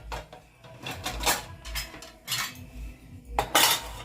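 Plastic items are loaded into a Bosch dishwasher rack, with a series of light clattering knocks and clinks coming in irregular bursts, fairly faint and close, with no talking.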